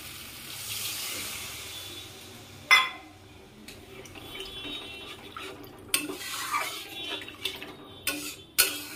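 Water is poured into a pan of bottle gourd kofta curry, with a soft hiss under clinks of a spoon against the pan and several sharp metallic knocks as it is stirred.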